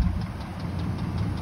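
A 1998 Chevrolet K1500 Z71 4x4 pickup truck idles with a steady, low, rumbling drone, close and continuous for a short stretch.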